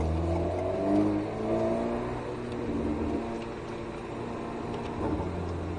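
An Alpine A110 S accelerates hard on the Lohéac race track, its engine note a strong, steady, close-up drone with rising harmonic sweeps as the revs climb.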